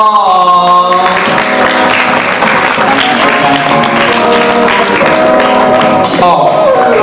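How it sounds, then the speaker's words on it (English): Audience applause at a charity dinner, a steady wash of clapping running the whole time beneath loud music with sustained tones. "Ladies and gentlemen, please give them a round of applause"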